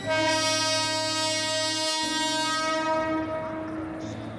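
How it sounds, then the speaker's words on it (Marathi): A Harbour Line train's horn blares at Panvel station in a long, steady, loud tone, shifting pitch briefly midway before fading slightly at the end. "आता ट्रेन पनवेल स्टेशनला पोहोचली आहे, पाहू शकता"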